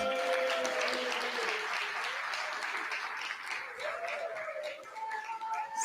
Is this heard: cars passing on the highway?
no